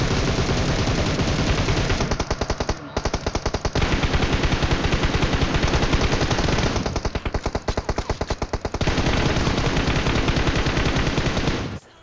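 Sustained automatic gunfire in PUBG Mobile, loud and dense bursts from several weapons nearly continuous for the whole stretch, with brief gaps where rapid single shots stand out.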